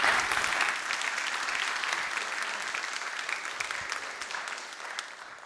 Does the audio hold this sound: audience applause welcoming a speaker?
yes